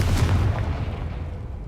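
Confringo spell explosion in the Hogwarts Legacy video game, a single deep booming blast that hits hard at once and then rolls away in a fading low rumble, loud and alone.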